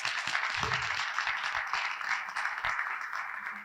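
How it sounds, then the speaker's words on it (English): A crowd at an evening panel discussion applauds the panelists with steady, moderately distant clapping that continues evenly to the end. "Can we give them another round of applause?"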